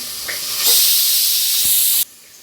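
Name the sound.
onion and asafoetida sizzling in a hot pan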